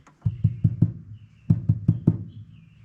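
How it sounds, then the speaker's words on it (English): Fingertip taps on sound-deadening mat inside a classic Ford Bronco cabin: two bursts of four dull, close knocks each, evenly spaced and damped, with quiet gaps between. "let's do the old finger tap test again"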